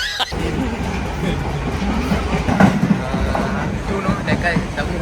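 Steady rumbling roar of a train moving along the rails, constant and fairly loud throughout, with some rattling.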